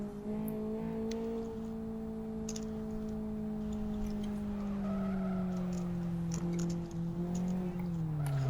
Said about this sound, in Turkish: Çok egzoz sesi var.